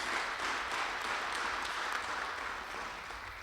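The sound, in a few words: audience applause for veterans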